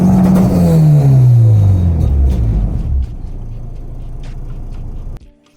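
Car with a Honda H22 engine winding down from a loud revving run, the pitch falling into a low idle rumble before cutting out abruptly. The engine is close and loud, with no talking.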